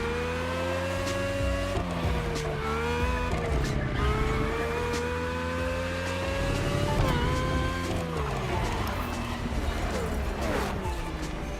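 Race car engines in The Crew Motorfest, a high revving engine note rising and falling through gear shifts, with tire noise, heard steadily under a narrator's talking.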